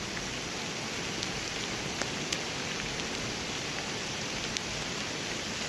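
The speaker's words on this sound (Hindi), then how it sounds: "सुबह धूप लगी थी और अभी बारिश ऊपर से देखो।" Steady rain falls in a village by a forest, a dense, even hiss of drops on surfaces that stays loud and unbroken with a few faint individual ticks and no talking.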